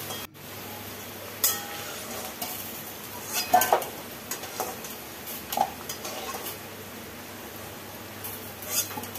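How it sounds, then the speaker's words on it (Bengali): Large diced potato cubes frying in hot oil in a kadai, a low sizzle broken by scattered clinks and scrapes of a spatula against the pan. "প্রথমে কড়াইতে তেল গরম করে একটা বড় সাইজের আলু ডুমো ডুমো করে কেটে ভেজে নেব"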